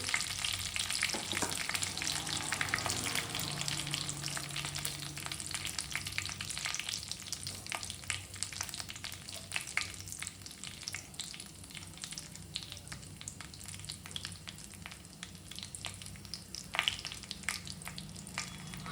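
Dried red chillies frying in oil in a pan for puliyogare (tamarind rice): a soft, continuous crackling sizzle with scattered pops and light stirring sounds, fairly quiet and steady, no speech.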